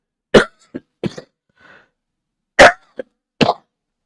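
Several sharp, close coughs in short bursts, a pair, then a pause with faint throat noise, then a few more coughs, with no talking.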